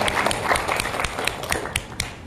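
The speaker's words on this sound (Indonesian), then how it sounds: "Baik, kita beri tepuk tangan kepada SMA 9 dan juga SMA" Audience at a school debate competition claps for the competing high school teams, a steady patter of many hands at moderate loudness with no talking.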